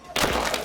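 Molten salt dumped into water erupts in one sudden loud blast, a sharp explosive thump with a booming crack that rings briefly before cutting off.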